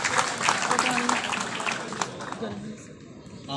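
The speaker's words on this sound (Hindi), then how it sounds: "तालियों में इस्तकबाल कीजिए" An audience at a poetry mushaira in a banquet hall claps in a burst of applause beneath a speaking voice, the clapping thinning out toward the end.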